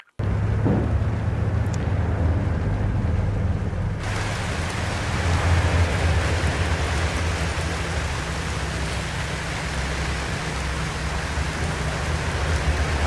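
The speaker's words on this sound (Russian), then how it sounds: "Осенний, вечерний дождь." Rain in the City Car Driving video game, an autumn evening downpour: a steady, dense hiss of falling rain with a low rumble beneath, continuous and even throughout, with no voices.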